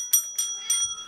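Three bright dings from a small bell struck by cats, quick and close with short gaps between each ring.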